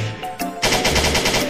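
Animated gunfire in a shooting game, a quick single shot followed by a rapid machine-gun burst of loud, evenly spaced bangs.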